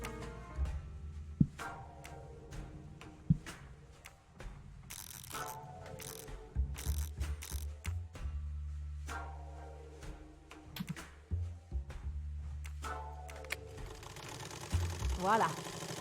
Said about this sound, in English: The sewing machine is working.